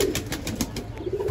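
A pigeon coos softly nearby in a rooftop pigeon-keeping setting, a short run of low throaty pulses lasting just over a second.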